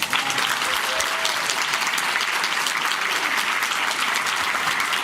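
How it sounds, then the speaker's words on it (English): Sustained audience applause fills a city council housing forum for the panelists, dense steady clapping from many hands, loud and continuous throughout with no break. "Can you all join me once again in giving a round of applause to Sonya as well as our"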